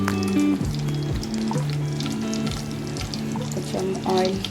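Butter and a little oil heating in a hot pan for toast, a steady close sizzle and crackle running throughout, with a speaker talking over it.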